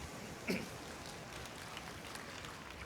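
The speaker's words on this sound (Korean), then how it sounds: "박수는 저분한테 치시는 거죠?" A conference audience claps steadily in a hall, a dense, even patter of many hands throughout, with one brief louder bump early on.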